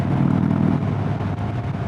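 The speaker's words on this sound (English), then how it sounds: "It's the Indian 116 motor. Love this thing, super punchy." An Indian Springfield Darkhorse motorcycle with the Indian 116 engine rumbles loud and close, a dense low throb that pulses steadily and eases slightly partway through.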